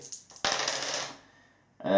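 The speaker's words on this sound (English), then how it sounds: "So roll 2 of those dice, and this is how many attacks you get, and divided by 2." Dice for a tabletop wargame tumble and clatter across a hard surface in a short bright rattle that fades out, followed by a brief new sound at the end.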